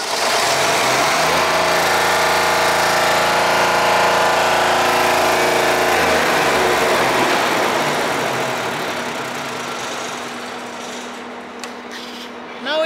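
A Deutz three-cylinder diesel engine runs steadily after a restart, loud and close with a continuous low rumble that eases slightly toward the end, no talking over it.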